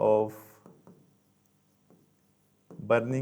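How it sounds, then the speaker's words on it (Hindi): A teacher writes on a board in a chemistry class: a few faint, sparse scratching strokes in a quiet gap between stretches of a man's speech. "अब ये मैं लिखता हूँ"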